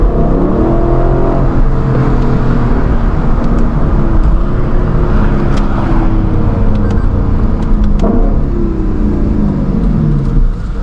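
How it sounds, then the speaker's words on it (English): Lexus LC 500 V8 engine while driving, heard from inside the cabin: a loud, continuous throaty roar whose pitch climbs and falls as it revs up and shifts through gears. "I just can't understand how they made this engine produce this perfect of a noise"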